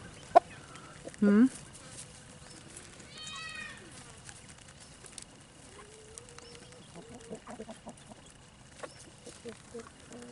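Chickens cluck and squawk close by in a farmyard, with several sharp calls early and softer scattered clucks afterwards, while a person speaks quietly in the background.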